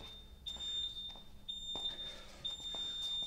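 An electronic boxing round timer beeps in three evenly spaced high tones, signalling the start of a three-minute round, faint against a quiet gym background.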